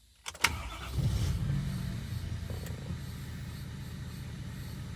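Ford 6.7 Powerstroke Super Duty diesel fitted with a cold air intake starts with a sharp crank and catch, then settles into a steady, low, rumbling idle heard close by.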